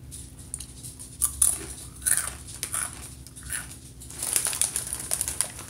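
Crunchy cheesy Korean snacks are bitten and chewed up close in irregular crisp bursts, with faint crinkling in between and no talk.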